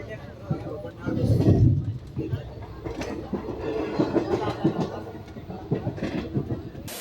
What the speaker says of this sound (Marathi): आम्ही आता रेवीगुंटा रेल्वे स्टेशनवर पोचलो आहे